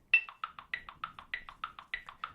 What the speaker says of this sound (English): I'm going to put on my metronome